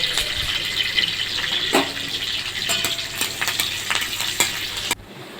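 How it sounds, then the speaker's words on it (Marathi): Curry leaves, cumin, mustard seeds and crushed garlic crackle and sizzle in hot oil in a kadhai, a steady close fry with sharp popping bursts, ending abruptly. "इथे कढीपत्ता आपला चांगला तडतडला आहे."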